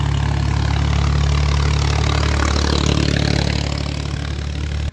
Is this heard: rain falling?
no